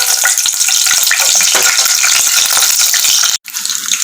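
Peanuts and chana dal frying in hot oil for Tamil coconut rice, producing a loud, dense, continuous sizzle and crackle with stirring, briefly dropping out near the end.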